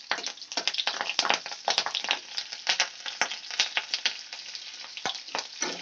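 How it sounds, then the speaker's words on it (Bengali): Slit green chillies fry with black cumin seeds in oil, a close crackling sizzle with dense popping and spitting bursts that swell and ease over a few seconds, with no voices. "কাঁচা লঙ্কাগুলোকে আমি একটু ভেজে নেব।"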